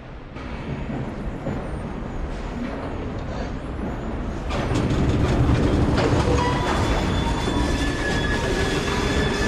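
A train in the video game Assassin's Creed Syndicate rumbles along with a steady rolling roar and rail clatter, growing louder midway through, with no voices.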